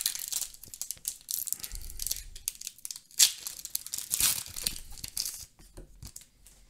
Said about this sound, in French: Dernier booster Ursula.